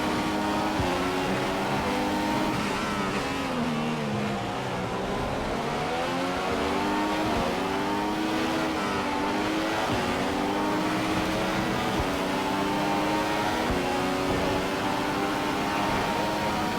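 Formula 1 race car engines in the F1 2015 video game at the Australia circuit, several high, whining engines overlapping with rising and falling pitch as the cars race down the straight at steady full volume.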